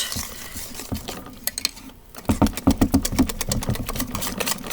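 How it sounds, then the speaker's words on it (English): Playdough mixture being stirred in a bowl, a rapid run of rhythmic scraping and tapping strokes that pause briefly in the middle and then resume in quick, close, moderately loud beats. "Stirring this up."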